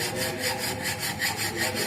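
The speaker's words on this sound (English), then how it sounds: "this is known as a drag filing" A hand file is drawn across metal in drag filing at a fitting shop, making close, steady, rhythmic rasping strokes with no talk.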